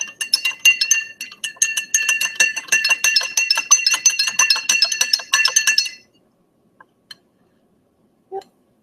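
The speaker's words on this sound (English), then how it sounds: "I'm just going to add a spoonful of salt to that one. And then stir it in." A metal spoon stirs a spoonful of salt into water in a glass, clinking rapidly and rhythmically against the sides for about six seconds, then stopping, with a couple of faint taps afterward; no talking.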